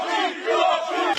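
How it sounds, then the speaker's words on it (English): A crowd of supporters chants loudly and continuously as the Tate brothers leave prison, a dense mass of voices with rising and falling waves of shouting and no single speaker standing out. "Their supporters chanted as they left."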